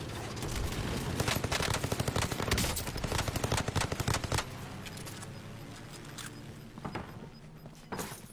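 Rapid bursts of automatic gunfire in the Warzone battle royale game, loud and dense for the first few seconds, then thinning into scattered, more distant single shots.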